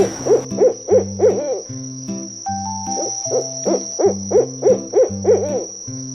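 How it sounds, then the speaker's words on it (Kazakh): An owl hoots in a steady repeating rhythm, clear and close, over a constant high insect-like chirr, with a simple synthesized melody in between. "Үкі қандай дыбыс шығарады?"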